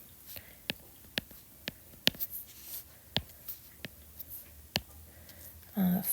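A large number is written out during a math lesson, heard as a quiet series of sharp, evenly spaced pen or stylus taps, followed by a brief low voice at the end.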